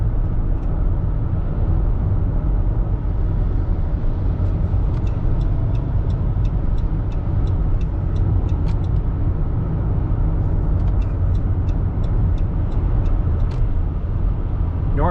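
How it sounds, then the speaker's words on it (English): A car cruises along a freeway heading north near Livingston, giving a steady, loud low rumble of engine and road noise with a few faint ticking sounds over it and no talking. "Finally, I'm on the freeway."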